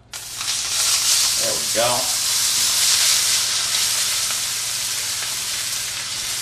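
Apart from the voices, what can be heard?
chicken breast searing in a pan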